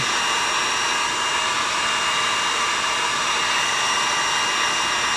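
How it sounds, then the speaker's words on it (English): Heat gun held against a styrofoam pumpkin to melt it, a loud steady blowing roar that runs unbroken and close, with no talking. "I have to keep the heat gun there, but I'm not going to."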